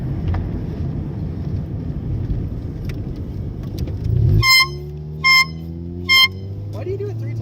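Three short, loud air horn blasts sound in quick succession after a stretch of steady traffic-like rumble and background chatter.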